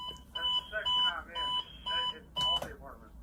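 An alarm clock beeps in repeated short bursts, a steady pattern of electronic tones about every half second, with a person speaking faintly around them.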